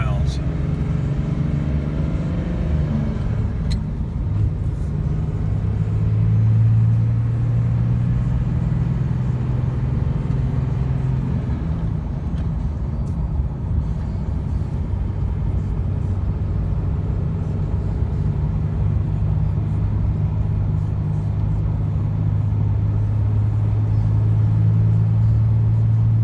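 Cummins diesel truck engine driving on the road at a steady low drone, a brief change in pitch suggesting a gear shift partway through, with continuous rumble throughout.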